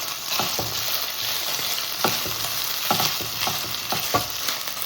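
Chicken pieces coated in cornflour fry in hot oil in a pan, giving a steady close sizzle with several sharp stirring clacks of a spoon against the pan.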